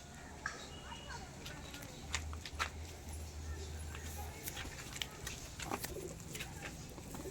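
Pigeons from a kept pair give a low, soft cooing drone close by, mixed with scattered clicks and taps and faint background noise, while a person speaks nearby.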